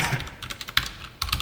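Typing on a computer keyboard: quick clusters of crisp, close key clicks with a short gap before a final burst.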